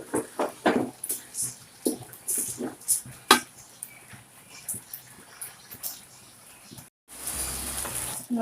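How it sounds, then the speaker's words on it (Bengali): Rice frying in a pan for chicken pulao, with irregular scraping and clattering stirring strokes over a low sizzle, a brief silent gap, then a steadier, louder hiss near the end. "চালটা ভাজা ভাজা হয়ে গেছে"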